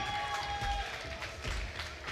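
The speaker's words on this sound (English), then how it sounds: "Give them a round of applause for the big W for Artificial Aim." An audience at an Apex Legends esports cup event applauds and cheers, a dense steady wash of clapping from a crowd with a faint tone running through part of it.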